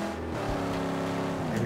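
A car engine roars steadily with a nitrous boost in the Mad Max video game, a loud sustained drone with harmonic layers that shift slightly in pitch under the racing.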